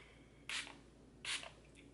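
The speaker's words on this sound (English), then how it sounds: "Let's spray it with some, you know, like stuff." Setting spray misted onto a made-up face, two short hissing spray bursts about a second apart with a fainter third puff, close and quiet in an otherwise silent room.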